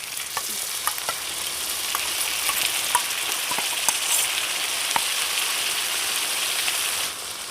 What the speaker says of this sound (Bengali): আর সবশেষে দিচ্ছি জিরা গুঁড়ো সব কিছু খুব ভালোভাবে মিশিয়ে নেব